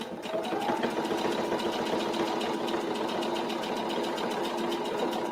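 A sewing machine runs steadily, stitching the seam of a fabric shoe bag. Its close, even, rapid mechanical chatter continues without a break and with no voices.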